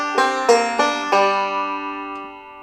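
Banjo playing a bluesy modal lick in a forward and then backward roll: four bright plucked attacks in quick succession ring out and decay, followed by one faint note, up close with no talking.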